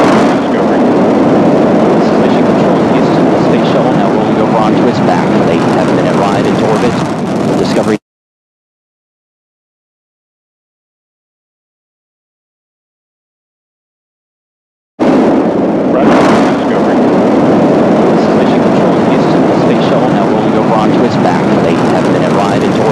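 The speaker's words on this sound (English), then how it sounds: "The shuttle has cleared the tower." Space shuttle rocket engines roar loudly and continuously after clearing the launch tower, a dense broadband rumble that cuts out to silence midway and then resumes.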